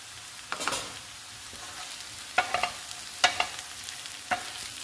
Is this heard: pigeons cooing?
no